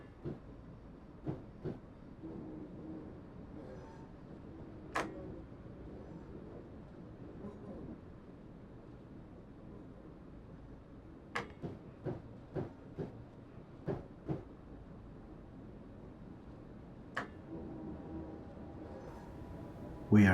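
A train runs over the Clyde bridges out of Glasgow Central, with a low steady rumble and scattered sharp clicks and clacks from wheels crossing rail joints, fairly faint and without voices.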